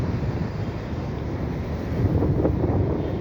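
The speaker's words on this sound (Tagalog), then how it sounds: "lakas ng hangin" Strong wind buffets the microphone outdoors near palm trees, a dense, rumbling low roar that swells slightly toward the end, steady and close with no voices.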